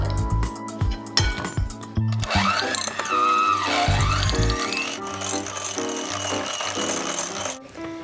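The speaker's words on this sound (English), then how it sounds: "we're going to beat together the Philadelphia cream cheese, that's about 170 grams, 135 grams of condensed milk" Philadelphia cream cheese, condensed milk and melted white chocolate being beaten together in a bowl for cheesecake, a steady rattling clatter with clinks and a rising and falling whine that runs for several seconds, close and fairly loud.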